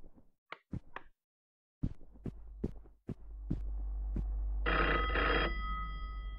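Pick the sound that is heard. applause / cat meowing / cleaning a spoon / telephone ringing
telephone ringing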